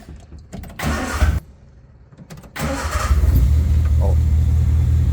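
Carburetor engine on an ignition test run: two bursts of starter cranking, then the engine catches and settles into a loud, steady idle rumble close by, with a voice speaking briefly early on.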